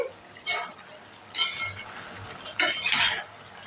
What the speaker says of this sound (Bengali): এটা সুন্দর করে নাড়াচাড়া করতে হবে।